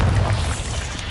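A Bombarda spell explodes in Hogwarts Legacy as a loud, dense booming blast that fills the whole short moment with low rumble.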